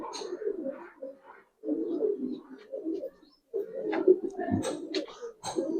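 Giribaz pigeons coo in repeated soft, throaty phrases, close by, with brief pauses between bursts and some sharper chirps and flutters mixed in toward the end.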